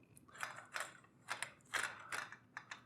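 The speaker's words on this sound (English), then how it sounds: "I've got a C-stand here with an arm right here, and I'm just going to lift this up Actually, I'm gonna lower the arm." The metal arm of a photography C-stand is lowered, giving a handful of faint, close clicks, ratchets and creaks spaced irregularly over a few seconds.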